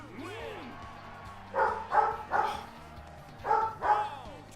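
A large dog barks several times in quick bursts, deep and close, over a background of Ultra Street Fighter II arcade game sounds and a voice.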